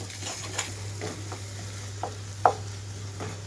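A spatula stirs chinta chiguru egg bhurji (tender tamarind leaves with egg) in a pan, giving a few soft scraping knocks over a low, steady background hum, with no talking.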